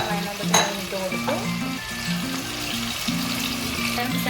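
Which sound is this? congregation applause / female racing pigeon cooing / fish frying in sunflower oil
fish frying in sunflower oil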